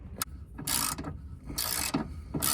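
Ratcheting wrench loosening a 10mm bolt under a Subaru BRZ, three bursts of quick, close clicking separated by brief pauses, with no voices.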